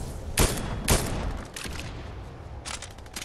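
Gunfire in the Fortnite video game: two sharp, loud shots close together, then fainter scattered bursts of distant firing, with no talking.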